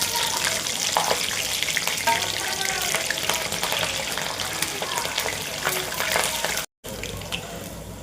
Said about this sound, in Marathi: या मिरच्या अशा तळून घ्यायच्या.